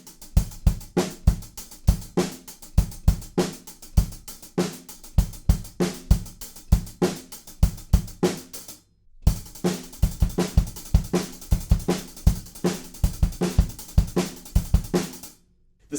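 Full drum kit playing the verse groove of a song with a broken-up kick pattern following the riff, steady driving hits with cymbals, loud and close, a brief gap near the middle, no talking.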